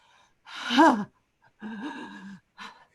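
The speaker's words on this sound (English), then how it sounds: "heaving, burning, heavy breaths, heaving" Heavy, heaving breaths from a performer in a live stage reading, three loud gasping breaths in close succession, the first strongest, each ending abruptly with short gaps between.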